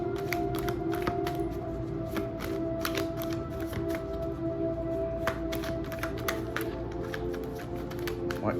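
Tarot cards are shuffled and drawn by hand, giving a run of quick, crisp flicks and taps at close range over a faint steady hum, with no one talking.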